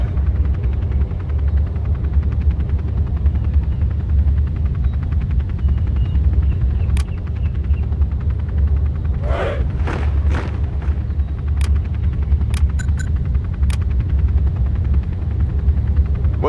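Aircraft in Command & Conquer Generals Zero Hour, heard as a loud continuous rotor-like engine roar with a few sharp clicks and short bursts on top, steady and close throughout.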